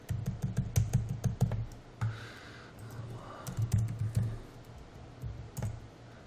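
Typing on a computer keyboard: quick runs of close key clicks in irregular bursts, pausing briefly near the two-second mark before resuming, moderately quiet with no talking.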